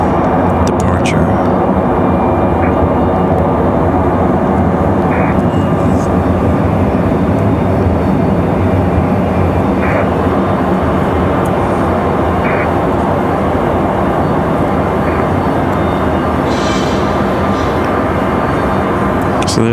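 Cirrus SR-22 light aircraft at Raleigh-Durham International Airport, a loud, steady engine drone that fills the whole stretch alongside wind and outdoor noise, with a person talking over it.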